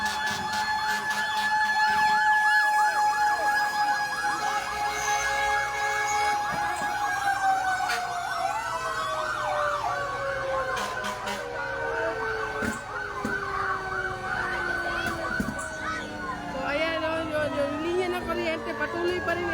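Fire truck sirens wail continuously at a large blaze in Malate, Manila, several overlapping rising and falling tones sweeping over a loud, busy street background with engine rumble.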